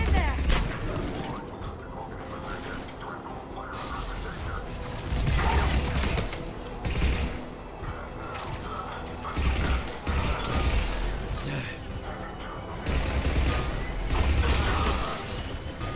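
Gunfire from the video game Mass Effect 3 during a firefight with Cerberus troops at a checkpoint: repeated bursts of shots and mechanical clatter over sixteen seconds, loud and dense, with someone talking over parts of it.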